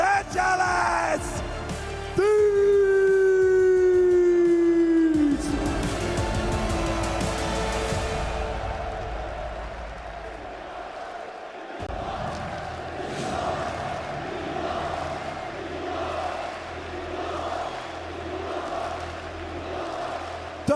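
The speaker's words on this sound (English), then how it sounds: "the greatest crowd" A large live crowd at a Call of Duty League Major IV championship esports tournament roars and yells, loud and sustained at first, then easing into a steadier rhythmic chant that rises and falls.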